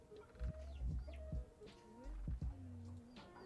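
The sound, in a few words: chicken Big Cluck clucking in EOA video game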